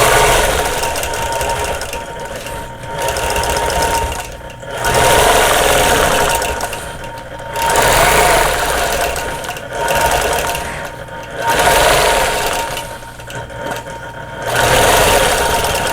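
A domestic sewing machine stitches straight-line quilting on a basket table runner, running in loud, steady whirring bursts of a few seconds each, separated by short pauses.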